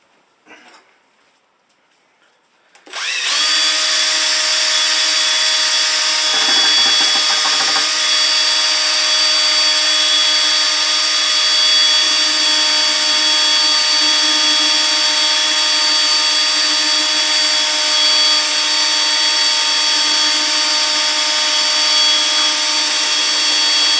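After a brief quiet moment a power drill with a mixer attachment whirs to life in a bucket of paint, running at a constant loud, steady pitch, churning without pause.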